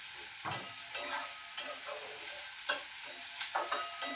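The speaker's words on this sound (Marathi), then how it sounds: "त्याच्यामध्ये रवा टाकून परत हलवून घेऊया" Semolina being stirred in a pan for upma: sharp, intermittent scrapes and clinks of a spoon against the pan over a faint background hiss, close and alone.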